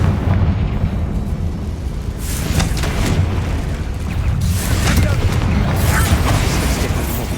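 Confringo fire spell blasting apart a barricade in the Hogwarts Legacy video game: a couple of heavy booming bursts with crackling debris over a steady rumbling game backdrop.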